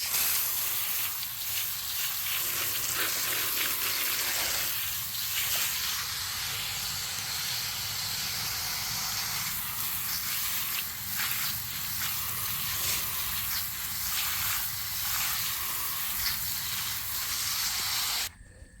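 Water hisses and splashes steadily while a yellow sweet cassava root with rough brown skin is washed under it, a continuous close rushing sound with no speech.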